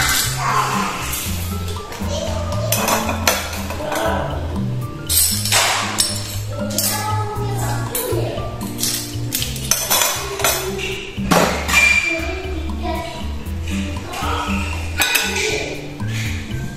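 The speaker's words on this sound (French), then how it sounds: "il avait fait la vaisselle et donc là j'essuie tout ce qu'on a utilisé" Dishes, pots and cutlery from the previous day being dried and handled, with frequent clinks, taps and clatter at close range, continuous and busy.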